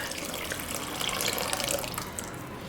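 Water pours steadily into a pot of tamarind rasam, a continuous close splashing gush with no talk over it.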